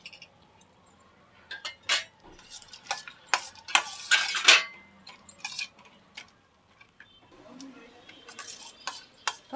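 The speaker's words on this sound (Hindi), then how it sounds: "ड्राई फ्रूट को सारा सेक लेते हैं हल्का हल्का" Cashews and almonds roasting in ghee in a pan, with irregular spoon scrapes and metallic clinks clustered in bursts, then a quieter stretch and a few more stirs, close by.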